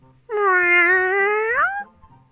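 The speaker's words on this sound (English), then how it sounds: "Found the cat." A single cat gives a clear, drawn-out meow that rises and then falls at the end, heard close up and on its own.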